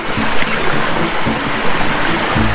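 Water pouring over a small weir on a river, a loud, close, steady rush with bubbling, splashing texture and no voices.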